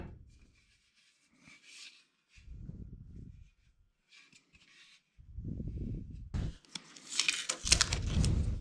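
Old sticky tape being peeled and pulled off a kit car's light bar made from a clothing rail, with faint crinkling rubs at first, then longer ripping bursts that grow louder and harsher toward the end, no talking.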